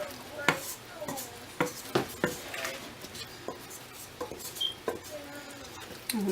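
Bread dough for Amish white bread is mixed by hand in a pan as flour is worked in, giving soft irregular thuds and scrapes at a close, quiet level.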